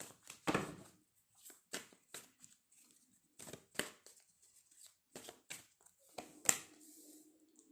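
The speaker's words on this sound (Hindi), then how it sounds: "We'll take some more cards." Tarot cards being shuffled and drawn, soft papery slaps and brushes in short separate bursts with quiet gaps between, close and gentle.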